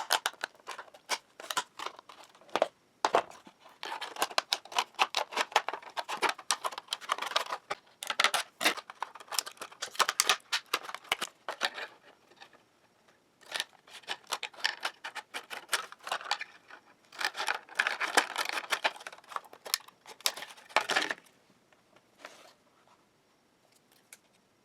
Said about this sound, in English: I just use a pair of tin snips to cut off the top piece, and then just a pair of good scissors to cut the plastic.